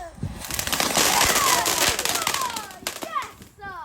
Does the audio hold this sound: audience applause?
no